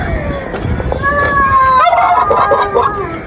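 Chickens squawking and clucking in a mini zoo, harsh rising calls overlapping amid busy background noise and crowd babble, fairly close and continuous.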